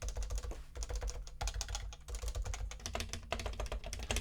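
Fast, steady typing on an HHKB keyboard fitted with foam rings under the keys, a dense run of soft muted clacks close to the mic with no talking.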